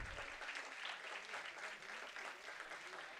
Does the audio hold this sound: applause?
yes